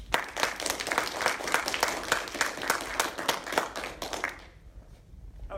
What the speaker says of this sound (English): Let's give a big round of applause to today's speaker